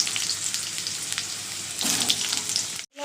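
Diced potatoes fry in hot oil with cumin seeds and bay leaves, a steady dense sizzle that crackles and swells partway through, ending with a sudden brief silence.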